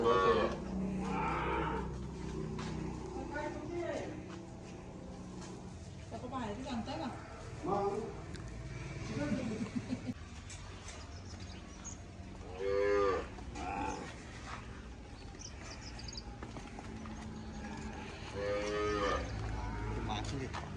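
Cows on a family farm moo several times at moderate distance, the lowing calls rising between stretches of people talking.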